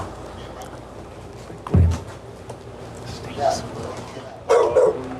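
Dogs, one of them a pit bull, barking from inside a house in a few short bursts, fairly close, with a voice talking between the barks.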